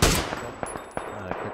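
A single accidental gunshot in PUBG cracks out loudly at the start, followed by a few fainter sharp shots or clicks spaced through the rest of the moment.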